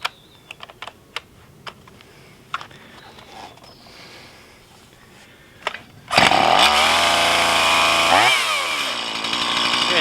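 A Stihl MS170 chainsaw starts after several sharp clicks and taps, then idles at around 3,500 rpm, loud and close. Its buzzing engine dips briefly partway through, then settles back.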